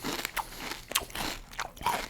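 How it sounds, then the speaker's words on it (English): Crunchy Kellogg's Vector high-protein cereal being chewed close up, a steady run of loud, dry crackling bites and crunches for about two seconds with no talking. "A little extra crunch in a cereal is never a bad thing"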